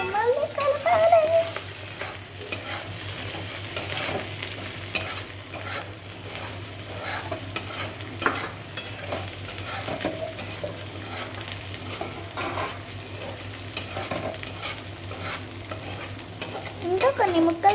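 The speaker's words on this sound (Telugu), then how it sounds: "పింక్ సాల్ట్ మళ్ళీ కలపాలి." A spoon stirs fish fry seasoned with pink salt in a hot pan, giving a continuous sizzle and repeated scraping strokes at close range, with a brief voice at the start and end.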